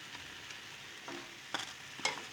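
Eggplant and cubed meat with onion and tomato cook in a pan, giving a faint steady sizzle with a few soft stirring scrapes and clinks.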